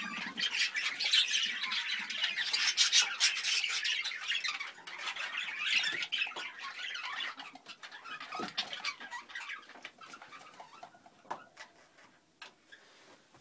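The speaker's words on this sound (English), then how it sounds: "This is my budgie breeding shed. This is my first time of ever breeding budgies. This is all my young budgies." Young budgies in a budgie breeding shed squawk and chatter nonstop, a dense flock of bright, overlapping calls and clicks close by that thins out a little toward the end, with no talking.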